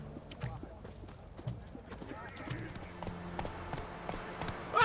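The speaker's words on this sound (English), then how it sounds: "Whoa there, Roach" Horse hooves from The Witcher 3 video game clop and gallop in irregular quick beats, fairly faint, mixed with other in-game sounds and a brief louder burst at the end.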